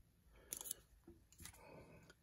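Scissors snip a small piece of double-sided tape, with a few short, faint, crisp clicks and snips close by in a quiet room, spread over about two seconds.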